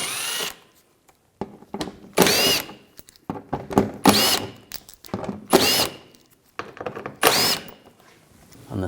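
A power tool with an 8mm socket spins out underbody shield bolts on a 2006-2009 Mercedes-Benz E350, several short whirring bursts separated by clunks and quiet gaps, close and fairly loud, with no talking.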